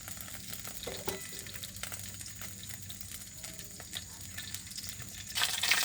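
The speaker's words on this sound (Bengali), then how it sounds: "এখন আমি তেলটা দিয়ে দিলাম, গরম হয়ে আসছে" Soybean oil heating in a pan on the stove, a steady close crackling sizzle that grows louder toward the end, with no voice.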